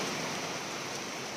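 Heavy rain pours down at night, a steady, dense hiss of downpour that fills the whole clip evenly with no voices.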